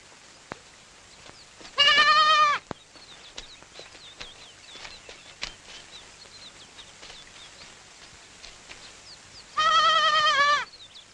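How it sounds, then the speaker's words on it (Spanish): A lamb bleats twice in a rural countryside setting, each call a loud, wavering cry about a second long separated by a long pause, with faint birdsong and quiet outdoor ambience between. "Este corderito va a ser muy buena carnada."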